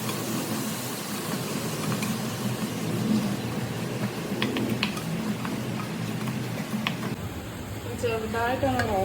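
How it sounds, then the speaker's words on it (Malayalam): Onions with a pinch of salt sauté in a pan, giving a continuous close sizzle with scrapes and stirring clatter, and a voice talks briefly near the end. "സവോള ഒന്ന് പെട്ടെന്ന് വഴന്ന് കിട്ടാൻ വേണ്ടിയിട്ട് ഇച്ചിരി ഉപ്പിടാണ്."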